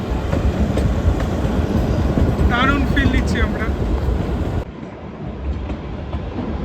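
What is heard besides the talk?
UNESCO heritage toy train to Shimla running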